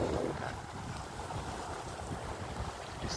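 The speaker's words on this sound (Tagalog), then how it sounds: "Talaga napakalakas ng hangin." Strong wind roars steadily, buffeting the microphone with a continuous broadband rush, with faint water sounds underneath; no voices.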